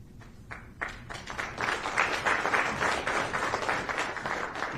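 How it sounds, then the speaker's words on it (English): Audience applause at a military retirement ceremony for a colonel, a crowd clapping steadily and building after a quiet start, dense and sustained with no voices over it. "Please join me in a round of applause"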